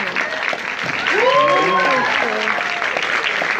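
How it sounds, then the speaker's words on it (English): A crowd gives a round of applause at a live event, a dense, loud and continuous clapping that swells and holds while a voice talks over it. "Ladies and gentlemen, a big round of applause"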